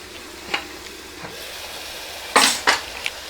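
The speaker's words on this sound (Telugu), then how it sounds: "మళ్ళీ మూత పెడదాం ఒక 2 నిమిషాలు" A lid is set on a pan of stuffed brinjal masala cooking in oil, producing scattered close metallic clinks and clatters, a brief cluster of louder knocks near the end, over a low simmering hiss.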